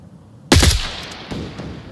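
A suppressed AUG A3 rifle fires in the video game Onward, a sharp, loud burst of several rapid shots followed by a fading tail and a fainter second shot.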